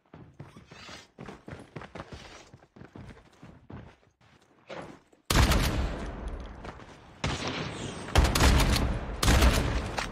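Bursts of loud gunfire from a first-person shooter match, including a KRM shotgun, erupt midway and continue in dense volleys after a stretch of quiet speech-like chatter.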